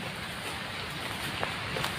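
Steady rain falls outdoors during a lizard-hunting trip, a soft, even hiss of drops on surfaces with a few faint patters, continuous and fairly quiet for about two seconds with no talking.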